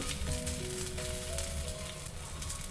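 Ghee sizzles and crackles in a hot pan while a rava dish cooks, a close, steady frying hiss with a faint tonal ring running underneath and no voices.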